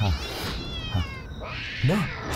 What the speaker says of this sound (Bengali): ওই তো আমার বিড়ালটা ডাকছে